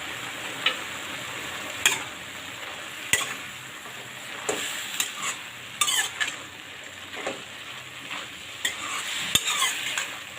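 Slit green chillies drop into red spinach frying in a pan, a steady sizzle broken by repeated sharp clinks and scrapes of a utensil on metal.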